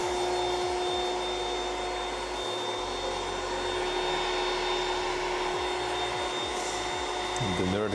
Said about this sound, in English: Vacuum time.